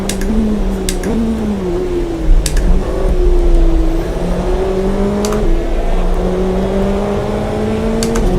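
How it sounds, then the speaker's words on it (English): A 2005 GT1 race car in Automobilista 2 at Bathurst holds its engine near maximum revs, a loud steady whine that rises and dips slightly with gear and throttle changes for the whole stretch. "Maxing out the revs. Nothing else to lose."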